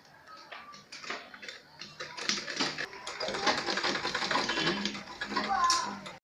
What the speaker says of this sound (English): Now, I start my sewing from the outer part, following this shape.